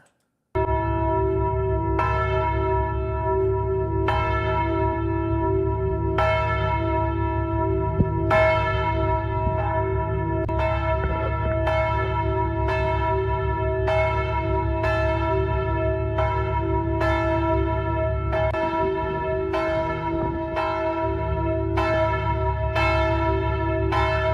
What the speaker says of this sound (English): that is a Muslim who is very annoyed by the church bells